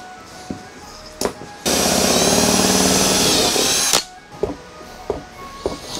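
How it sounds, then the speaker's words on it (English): A power drill bores a hole through a carbon fibre hood on a Toyota Altezza for bonnet pins: a loud, steady, high whine lasting about two seconds, framed by handling knocks and taps before and after. "it's time to drill the hole"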